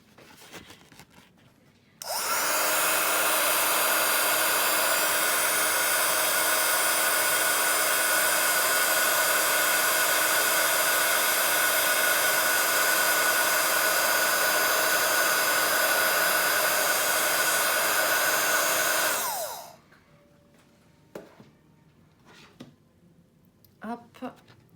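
An embossing heat tool warms embossing powder on a butterfly rubber stamp blended in three colours, giving a loud, steady blowing roar that runs about seventeen seconds, then cuts off into quiet handling noises.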